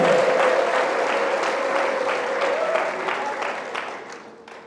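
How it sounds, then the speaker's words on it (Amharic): Church congregation applauding steadily with a sustained high ululation running through the dense clapping, loud and close at first, then gradually thinning and fading by the end. "ኧረ እባካችሁ አሜንና እልልታ ለእግዚአብሔር ስጡት።"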